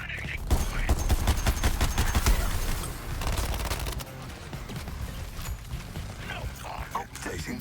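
Weapon gunfire in the video game Suicide Squad: Kill the Justice League, rapid bursts of shots with mechanical clatter in a loud, dense battle mix, briefly easing before more fire.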